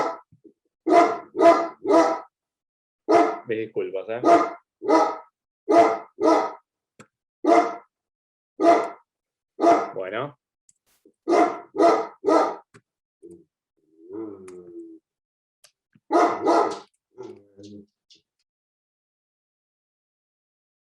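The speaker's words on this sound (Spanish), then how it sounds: "Tengo un perro manifestándose." A dog barks repeatedly nearby in indoor surroundings, delivering loud sharp barks in clusters of two or three with short pauses and a few whimpers, while someone speaks briefly between the barks.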